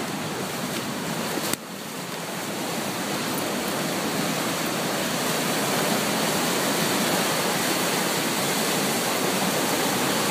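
The Ossipee River rushing over a dam, a dense, loud, steady roar of water that holds constant throughout with no talking.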